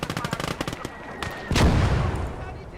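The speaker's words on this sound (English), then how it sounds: "this goddamn mortar is fucking shooting at this tank" Mortar and other gunfire in the World War II strategy game Call to Arms - Gates of Hell: Ostfront, with a rapid burst of sharp shots giving way to a loud booming blast that rumbles on, while a voice speaks faintly underneath.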